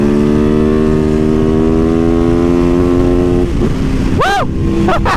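A cruiser motorcycle engine drones loud and close while riding, holding a steady pitch before revving sharply upward twice near the end, with wind rush throughout.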